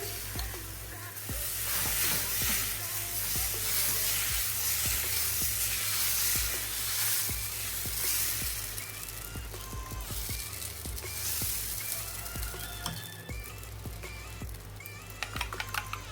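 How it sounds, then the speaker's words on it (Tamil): Black rice (kavuni) egg dosa batter sizzling and frying in a hot pan, a steady loud crackling hiss that runs through the whole stretch with no voices. "பேன் நல்லா சூடானதும் தோசை மாவு ஆட் பண்ணிக்கலாம்."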